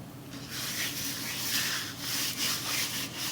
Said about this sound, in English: just get that rubbed into the pork